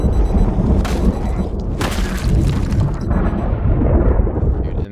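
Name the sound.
loud thunder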